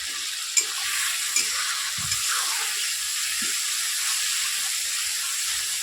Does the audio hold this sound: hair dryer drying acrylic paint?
no